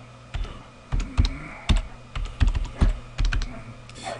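Computer keyboard typing as an IP address is entered, a few separate bursts of sharp key clicks spaced irregularly, close and clear over a quiet background.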